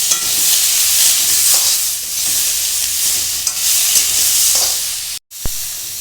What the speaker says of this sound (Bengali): বটবটিগুলো অল্প একটু লবণ ছড়িয়ে ভেজে নিচ্ছি।